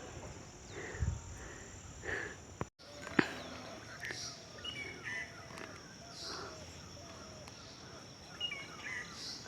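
Birds call repeatedly in a hillside tea garden around a homestay at Lamahatta near Darjeeling, short chirps and caws scattered at moderate distance over quiet outdoor ambience, with a sharp knock partway through.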